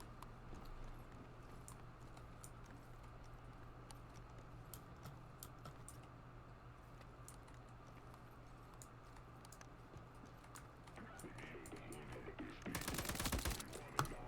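Video game gunfire: a brief burst of rapid shots near the end, following a long stretch of low, steady game background noise with scattered faint clicks.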